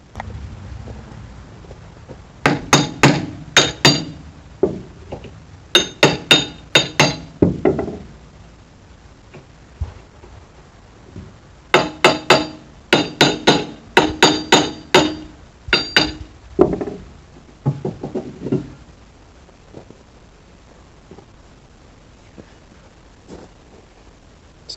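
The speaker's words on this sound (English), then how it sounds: "Let me get a wrench, smack this sprocket, and see" Metal wrench strikes on the track sprocket of a Vermeer CTX-160 compact track loader, hard ringing knocks in quick bursts of three to six blows separated by short pauses, close and loud.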